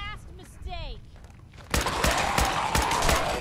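Gunfire from the player's weapon in Fallout 4, played in third-person mode, bursts in after a stretch of talk: a rapid run of loud, sharp shots repeating steadily over a busy game background.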